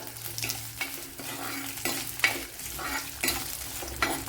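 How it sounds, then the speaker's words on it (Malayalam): Green chillies and curry leaves, sautéed with garlic in a pan for a Kerala fish curry made with big eye scad, give a continuous sizzle, with rhythmic scraping strokes of a spoon every half second or so. "അതുപോലെ മൂന്ന് പച്ചമുളക് ഒരു ശകല കറി ലീവ്സ് അപ്പോൾ ഇത്രയൊന്ന് വഴറ്റിയെടുക്കണം"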